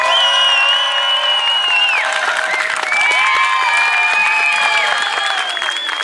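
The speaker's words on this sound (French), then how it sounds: "ça va être une ambiance de malade, un tonnerre d'applaudissements, un triomphe" An outdoor crowd at a street show in Epinay-sous-Sénart applauds and cheers loudly, with dense clapping under whoops and high shouts that stay strong throughout.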